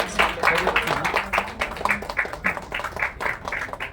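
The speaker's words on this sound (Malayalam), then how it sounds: "നല്ലൊരു ക്ലാപ്പ് കൊടുക്കാം" A crowd at a Bharathanatyam movie success celebration claps in quick, rhythmic bursts, moderately close, with some voices mixed in.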